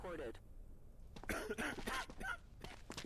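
Coughing and throat clearing from the Quarantine Zone video game come in a short series of harsh bursts, moderately close, mixed with speech-like voice sounds.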